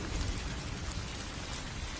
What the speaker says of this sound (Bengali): এত বৃষ্টি, এত ঝড়